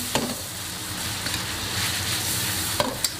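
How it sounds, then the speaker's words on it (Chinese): Dried chilies, Sichuan peppercorns, scallion and whole spices stir-fried with a spoonful of spicy chili sauce, a soft steady sizzle with a couple of sharp spatula scrapes, near and quiet, no talking. "炒香后加入一勺香辣酱，炒出酱香。"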